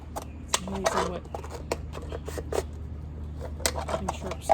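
Sharp scissors snip repeatedly through material while repairing a bird tube feeder, a series of quick close clicks and cuts with no voices.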